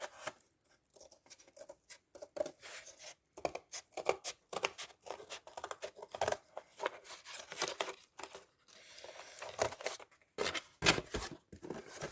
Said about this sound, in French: je prends mon ciseau. Je viens couper mon carton.